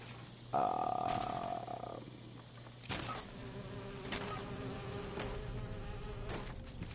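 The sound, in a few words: bees buzzing in video game Fallout 76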